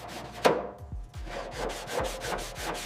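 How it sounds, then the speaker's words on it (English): A sanding block rubs back and forth over the corroded chassis of a 1962 Peel P50 microcar near the engine mounts, giving rhythmic gritty scraping strokes, close and steady, about five passes. "We should start with localized sanding around the engine mounts. This block is working well on the curve."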